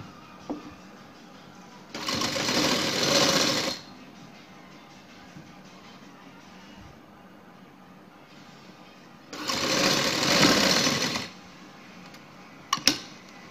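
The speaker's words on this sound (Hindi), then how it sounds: "अब हम इसकी कोनों के ऊपर सिलाई लगाएंगे।" Sewing machine stitching over the corners of a trouser piece, running in two bursts of about two seconds each, separated by quieter handling noise, with a brief click near the end.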